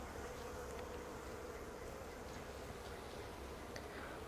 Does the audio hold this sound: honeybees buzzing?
yes